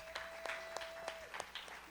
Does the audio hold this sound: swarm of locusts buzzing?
no